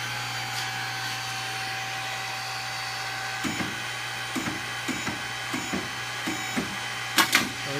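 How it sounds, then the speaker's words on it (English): A Liberty 4x5 industrial downspout machine with its hydraulic motor running, a steady droning hum with a constant tone, joined later by a series of clattering knocks and bangs from the mechanism, close and without talking. "and that starts the hydraulic motor"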